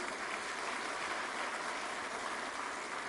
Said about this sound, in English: A round of applause for Michael Ellis, please.